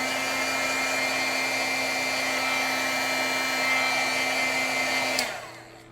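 Heat tool blows a steady, loud whooshing hum close by while drying acrylic paint on a stamped card, then cuts off abruptly near the end and the noise winds down.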